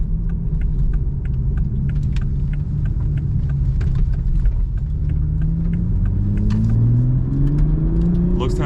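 A 2021 Toyota GR Supra with its 3.0 engine accelerating from inside the cabin, a steady loud engine drone climbing in pitch through the gears, with a rising whine near the end and a person talking over it.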